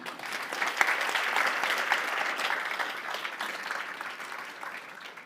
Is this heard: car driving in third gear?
no